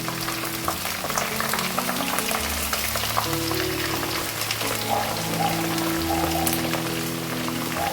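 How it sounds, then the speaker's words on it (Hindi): Okra sizzling and crackling steadily in hot oil for a bhindi gosht masala, a continuous dense fry with scattered pops, close and fairly loud, with faint music underneath and no talking. "ऑयल फुल गर्म है और आपने गरम ऑयल में ही भिंडी को फ्राई करने के लिए रखना है।"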